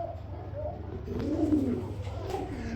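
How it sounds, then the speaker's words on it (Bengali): Kashmiri racer pigeons coo softly nearby, with a low rolling coo in the middle over a faint steady background hum. "এরকম অ্যাক্টিভিটি, এরকম ডাক কিন্তু সুস্থ কবুতর সারা কিন্তু পাবেন না"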